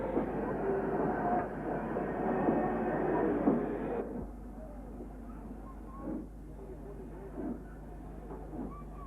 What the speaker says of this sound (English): This Black Five is seen shunting at Connel Ferry Station.